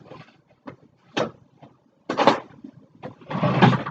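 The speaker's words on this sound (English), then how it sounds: "Close up the drawer" A drawer is handled and pushed shut in a few separate knocks and scrapes, sharp wooden clunks spaced apart with a final longer sliding thud, close by and alone without speech.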